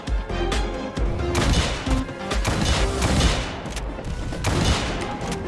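Dense gunfire in the airship combat video game Airship Assault, with loud overlapping bursts and rapid shot volleys crowding close together throughout, with no pause in the shooting.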